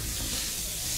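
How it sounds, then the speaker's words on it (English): Ground taco meat fries in a hot pan with a steady, dense sizzle and hiss that holds at an even loudness from start to end, close and with no voices over it. "there we can smell that meat frying right there"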